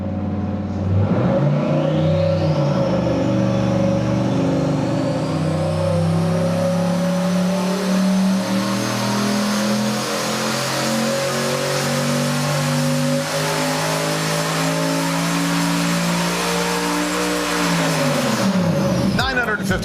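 A turbocharged engine on a dynamometer makes its final full-power pull, winding up steadily from low revs to a loud, sustained high-rpm roar for about fifteen seconds before cutting off sharply.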